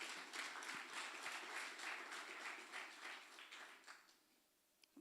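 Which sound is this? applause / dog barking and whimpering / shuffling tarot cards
applause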